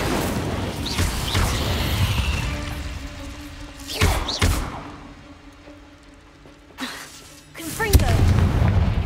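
Explosive blasting spells such as Bombarda and Confringo in the wizarding video game Hogwarts Legacy: a few heavy thuds and booming impacts land in separate bursts over a rumbling battle bed, with shouted spell incantations mixed in.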